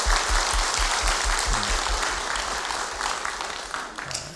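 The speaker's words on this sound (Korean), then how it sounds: "다시 한번 박수 부탁합니다." A church congregation applauds two guests, a dense, steady wash of many hands clapping that holds for several seconds, loud and close, then eases slightly toward the end.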